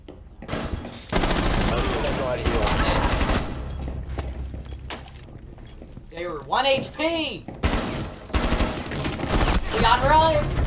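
Rapid bursts of gunfire in Rainbow Six Siege on a cluttered indoor map, loud and dense, with gamers' voices talking over the shots.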